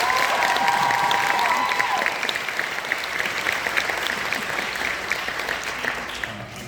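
An audience of students at a film Q&A breaks into sustained, dense applause, loud and steady at first and easing slightly toward the end, with a brief voice heard at the start.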